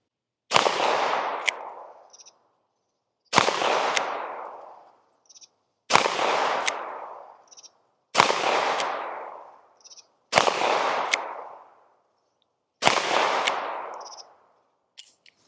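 Six loud, sharp revolver shots from a Taurus Deputy .357 Magnum with a 5.5-inch barrel, fired one at a time at a steady pace about two seconds apart, each a close crack with a ringing decay and no talking.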